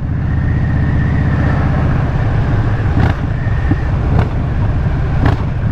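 A motorcycle engine drones steadily while riding, with a continuous low rumble and wind noise and a few short knocks or clicks over the hum.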